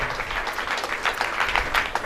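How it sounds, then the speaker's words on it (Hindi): An indoor crowd at a ration kit distribution event breaks into loud, sustained applause, many hands clapping densely and continuously at close range. "जोरदार तालियां हो जाए।"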